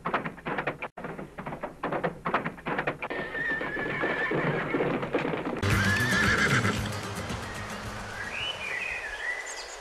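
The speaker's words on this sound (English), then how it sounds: "The sound of trotting horses are coming." Horse hooves clip-clop in a rapid trotting rhythm, then a horse whinnies loudly and close, with birds faintly in the background.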